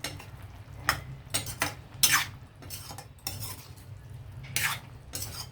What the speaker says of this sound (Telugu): ఇవన్నీ కలుపుదాం ఇప్పుడు.